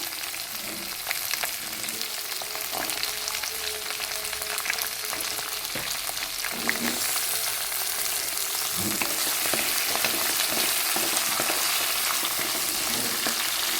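Onions sauté in oil with a loud, even sizzle that hisses continuously throughout, joined by occasional soft stirring taps.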